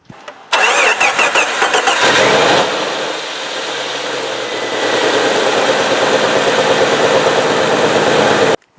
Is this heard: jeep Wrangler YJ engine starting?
yes